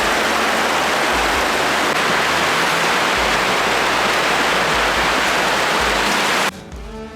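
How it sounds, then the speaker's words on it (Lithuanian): Small waterfalls on a forest stream in snowy Romanian woods rush loudly and steadily in a dense, close roar that drops off sharply near the end. "Skardžiukai tokie."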